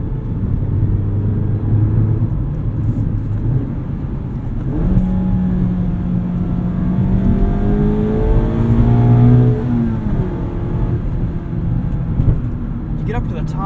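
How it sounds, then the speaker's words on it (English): 2019 Mazda MX-5 Miata RF Grand Touring engine pulling up through the revs, a steady loud drone from the cabin with rising engine tones climbing toward the top end, with someone talking over it. "Get up to the top revs and it almost sounds like half a flat plane crank V8"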